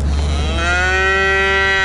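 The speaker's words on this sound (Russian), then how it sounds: "Священные коровы ходят вокруг." A cow lets out one long, loud moo, steady in pitch, close by on an open rural stretch with sacred-style cattle wandering freely around.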